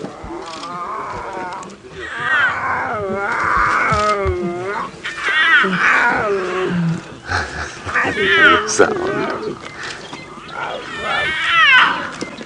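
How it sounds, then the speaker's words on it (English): Several lions roaring together on an early-morning live safari drive, long overlapping throaty calls rising and falling close by and loud, with a person talking quietly in between. "See, they're all roaring now."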